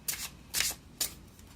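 Thin tarot cards are shuffled by hand in three quick, crisp riffling bursts, close and fairly quiet against a soft background.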